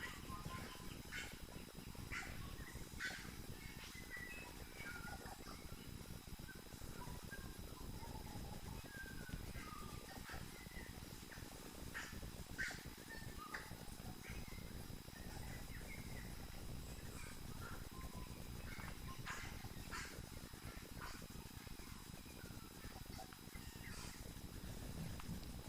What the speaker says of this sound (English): Listening to the native New Zealand birds,